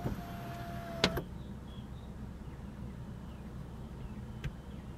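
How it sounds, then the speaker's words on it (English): The moonroof on a 2014 Lexus IS350 F-Sport tilts open at one touch: a soft click, a brief electric motor whir, and a faint final clunk in a quiet cabin. "Here is the moonroof. One touch, tilt."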